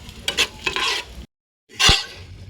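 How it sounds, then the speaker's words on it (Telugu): Sesame seeds, cumin and garlic fry lightly in a pan for a roti pachadi chutney: close spatula stirring scrapes and a soft sizzle, a brief silent pause, then one more loud scraping stir. "నువ్వుపప్పు గమ్మును మాడుతుంది. కాస్త చూసుకొని ఫ్రై చేసుకోవాలి"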